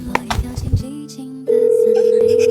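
A mobile phone's outgoing call ringback tone, a steady sustained tone starting partway through and continuing to the end, preceded by brief clicks and faint voices.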